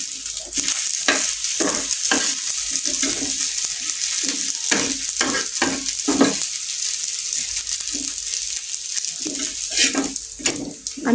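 Jhal pitha fries gently in a little oil over a low gas flame, giving a steady sizzle close up, with irregular scraping and stirring strokes from a spatula in the pan.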